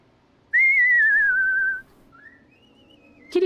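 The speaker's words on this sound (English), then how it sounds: "It sounds like someone's whistling behind the door." Whistling behind a door in the video game Stray: a clear, loud sustained whistled tone gently wavering and falling, then a softer higher whistled phrase after a pause, ending with a brief noisy burst.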